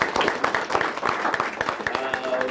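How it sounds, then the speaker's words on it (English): A panel audience at an emergency care law and ethics session claps steadily, with dense overlapping handclaps at moderate volume and a voice faintly mixed in. "I think a big clap to our panelists."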